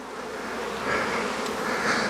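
Bees hum steadily at a beehive nuc in early May, a soft, even, continuous buzz close by with no voices.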